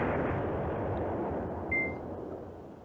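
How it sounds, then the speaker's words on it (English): Airstrike explosions in the wargame Command Ops 2 make a steady, broad rumbling roar that fills the whole stretch, with a short electronic beep partway through. "we have an airstrike"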